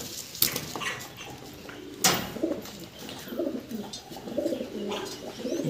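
Pigeons coo in a low, throaty, repeated rhythm, with a couple of sharp clattering knocks early on and a faint rustling background. The birds are being paired into a breeding couple; no voices are heard.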